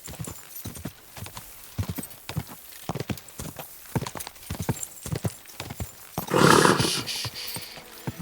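Rapid rhythmic hoofbeats of a galloping horse in the video game Kingdom Come: Deliverance II, loud and close, with a brief whinny or roar near the end.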